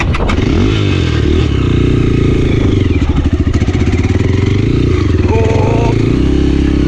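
KOVI 250 Advance enduro motorcycle riding downhill on snowy mountain ground, its engine a steady loud drone with rattles and scraping throughout, close to the rider.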